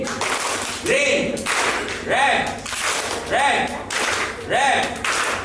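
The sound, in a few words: children clapping hands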